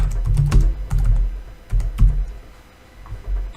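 Rapid, close typing on a computer keyboard: a quick run of crisp key clicks with short pauses, and no voices.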